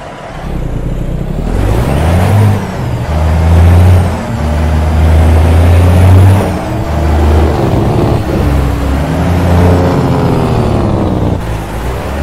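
Peterbilt 388 wrecker engine in American Truck Simulator, a loud deep diesel rumble rising and falling through repeated revs and gear changes, with a hiss like an air brake near the start.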